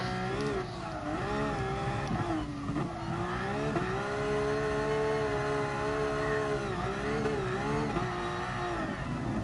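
A car engine revs hard while drifting in GT Sport on the Nordschleife, with a loud steady whine that rises and dips as the revs change, a rasping exhaust note and tyre noise mixed in, and no talk over it.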